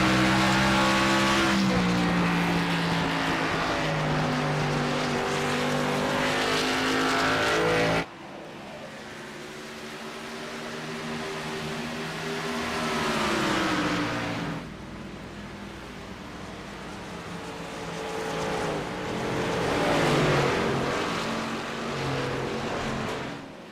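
Race car engines roar around Rockingham Speedway in the iRacing video game, loud and continuous, with rising and falling revs as cars pass in sustained bursts and abrupt cuts between views, and no talking.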